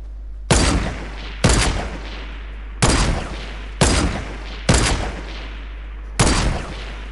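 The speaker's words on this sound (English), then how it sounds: "I'm shooting at them" Six loud, evenly spaced sniper rifle shots crack out in a sniper shootout video game, each a sharp report roughly a second apart with a short ringing tail, over a low steady hum.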